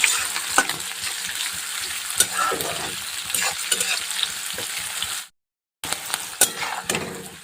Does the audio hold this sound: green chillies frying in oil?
yes